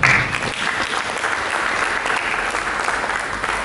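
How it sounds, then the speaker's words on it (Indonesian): Steady, dense applause from a church congregation during a sermon, filling the space evenly and loudly from start to finish with no speech on top. "Berikan tepuk tangan."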